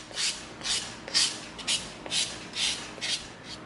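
A piece of EVA foam shaped into a gel gun is sanded by hand with 220 grit sandpaper, giving about eight rhythmic rasping strokes that are close, steady and evenly spaced, with no talking.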